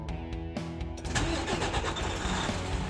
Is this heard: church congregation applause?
no